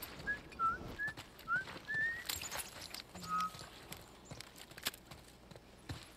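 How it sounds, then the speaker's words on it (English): A character whistles a short tune in The Last of Us Part 1, several quick rising notes in a row, set against faint hoof-like clopping, footsteps and ambient outdoor noise. "I'm whistling!"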